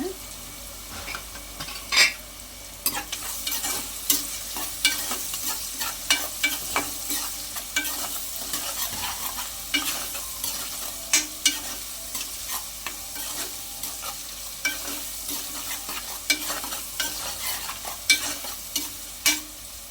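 Onions frying with salt in a pan for tomato rice: a constant sizzle with repeated spatula scrapes and stirring strokes, close and moderately loud, no talking.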